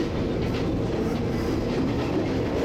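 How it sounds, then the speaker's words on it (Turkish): Train carriages roll along the rails near Ella, Sri Lanka, making a loud, continuous rumble with dense clatter from the wheels, heard from on board and without voices. "Sisli dağların arasından kıvrılarak ilerleyen vagonlar"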